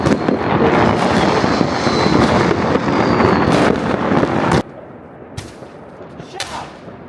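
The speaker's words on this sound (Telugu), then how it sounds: "మీ కనుచూపు మేర ఏ మూల చూసినా ఏ వాడ చూసినా ఇక క్రాకర్సే క్రాకర్స్" Firecrackers burst in a village during the Chinese Spring Festival as a dense, loud, continuous crackling barrage. It cuts off abruptly, and a few scattered single bangs follow.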